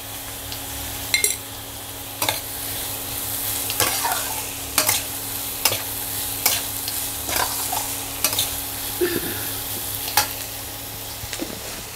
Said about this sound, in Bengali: দিয়ে দিচ্ছি একটু লবণ, পেঁয়াজটা তাহলে তাড়াতাড়ি ভাজা হয়ে যাবে।